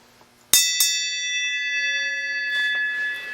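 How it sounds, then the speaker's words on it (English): One sharp strike of a bell, quickly followed by a second tap, then a long ringing tone that slowly fades, loud and close in a quiet space. "I'm gonna ring the bell"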